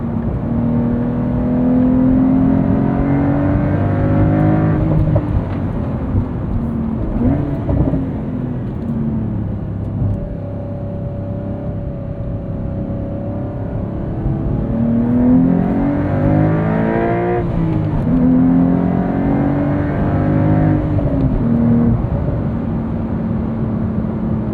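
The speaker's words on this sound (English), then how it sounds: "Love the way this exhaust sounds." A 2025 Porsche 911 Carrera T's exhaust roars continuously as the engine revs and climbs through the gears of its 6-speed manual, loud and close, with pitch rising and falling.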